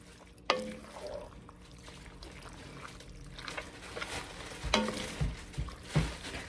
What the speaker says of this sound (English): we are just gonna stir it all up and make sure the pasta's all coated